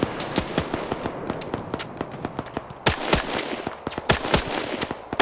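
Dense game gunfire from an OFCRA Arma PvP match set in Indochina: rapid volleys of rifle and machine-gun shots crackle in irregular bursts, some sharp and close, others distant, with a few louder cracks standing out over continuous battle noise.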